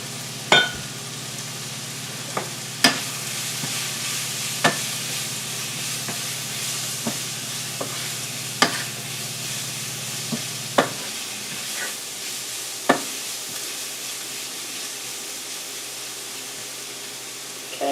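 Garlic powder, parsley flakes and other seasonings stirred in a pan of hot olive oil, a steady soft sizzle broken by sharp intermittent clicks of a utensil against the pan.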